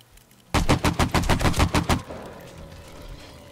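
An AK rifle in the video game 7 Days to Die fires a loud, close burst of about ten rapid shots in quick rhythm, then cuts off into a faint fading tail.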